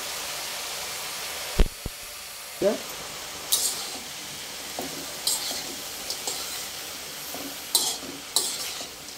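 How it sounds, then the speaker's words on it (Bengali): Bitter gourd (karela) frying in a pan is stirred with a spatula, giving a steady hiss of frying broken by repeated sharp scrapes and clacks at irregular intervals, close by. "এইভাবে নেড়ে নেড়ে ভালো করে নেড়ে নেব।"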